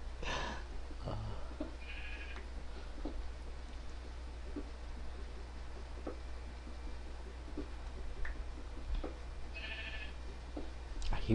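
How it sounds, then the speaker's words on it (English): Blocky Minecraft sheep bleats sound a few times, faint and spaced apart, over a low steady hum with occasional soft clicks. "Hear a sheep out there."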